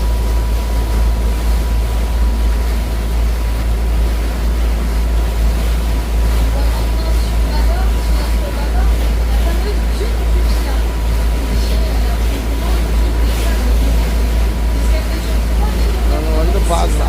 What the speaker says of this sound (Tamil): ஸ்பீட் போட் அப்படி ஓடுதான் ஸ்பீட் போட்